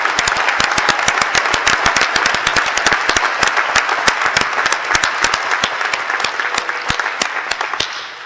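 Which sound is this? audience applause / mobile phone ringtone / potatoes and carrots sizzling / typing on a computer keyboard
audience applause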